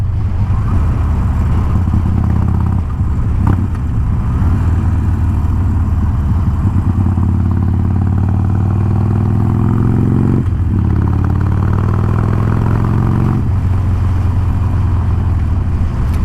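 A 2020 Harley-Davidson Iron 1200 motorcycle rumbles loudly and steadily while riding, its deep engine note rising and falling with throttle changes and a brief dip near the middle, with no talking.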